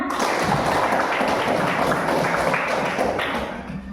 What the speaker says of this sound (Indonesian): Jadi tepuk tangan sekali lagi untuk kita semua.